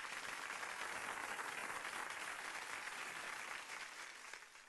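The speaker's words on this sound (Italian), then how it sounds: "al quale va il nostro gradito applauso e ringraziamento" Faint, steady applause with a continuous dense patter of many hands, fading slightly toward the end, distant and low in level with no voices.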